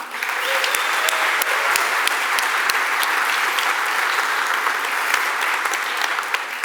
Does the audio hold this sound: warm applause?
yes